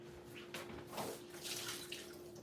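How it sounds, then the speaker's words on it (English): Water pouring off boiled cabbage into a kitchen sink, a steady splashing rush with a few louder gushes, close by and without talk. "And I'm going to drain this water off."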